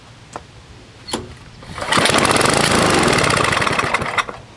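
An old Tecumseh small engine fires on the first pull after a little gas is poured down the spark plug hole, roaring up loud and steady after a few quiet knocks and running on briefly.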